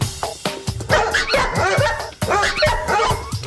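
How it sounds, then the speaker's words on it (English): Several dogs bark close by, overlapping sharp, energetic barks and yips in quick, irregular succession with hardly a pause. "Almost all of them bark when they see the mailman."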